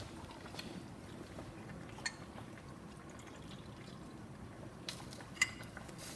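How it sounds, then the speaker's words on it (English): Water pours into a glass beaker, a faint steady trickle with a few small clinks, quiet and close. "Then we're gonna add the water to this beaker."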